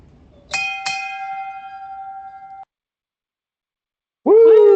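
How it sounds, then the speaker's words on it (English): A single bell is struck twice in quick succession, ringing out clearly and decaying for about two seconds, followed by a short burst of whooping from people. "Then Ryan, can we get a bell ring?"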